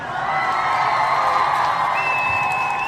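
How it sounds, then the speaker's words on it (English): An audience cheers and applauds continuously for a few seconds, a dense, even wash of crowd noise with whoops and a shrill whistle-like tone rising near the end. "I'm going to give all the Ujamaa babies a round of applause"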